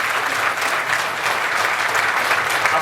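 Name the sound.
audience applause for the bank management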